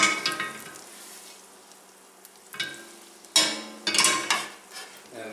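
A tablespoon of butter melting with a tablespoon of olive oil sizzles in a pan, coming in soft crackling bursts that flare louder near the end, with no voices.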